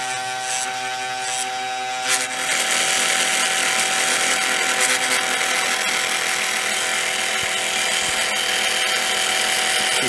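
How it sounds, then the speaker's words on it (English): Homemade DC motor servo geared about 5-to-1, driving a gyroscope gimbal on a self-balancing two-wheeler, whirring loudly and steadily at high speed with a rough mechanical buzz, starting up and then holding a constant pitch. "And then this is my homemade servo. It's a motor, DC motor. It's geared about 5-to-1 ratio,"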